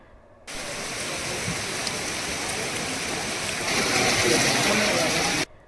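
Heavy, continuous rain pours down in a Gujarat village, flooding the roads. It is a loud, dense, steady hiss that starts and stops abruptly and swells stronger toward the end.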